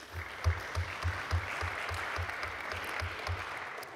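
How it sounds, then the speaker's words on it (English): Audience applause fills the room after a panel discussion on the post-war order, a soft, even spread of many hands heard from a distance, with a faint low thumping running underneath. "let's give a hand of applause to our wonderful panel"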